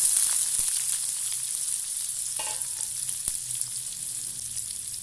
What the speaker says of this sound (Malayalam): കടുക് ഒന്ന് പൊട്ടി തുടങ്ങുമ്പോഴത്തേന് നമ്മൾ അരിഞ്ഞു വെച്ചിരുന്ന കുഞ്ഞുള്ളി ചേർത്ത് കൊടുക്കാം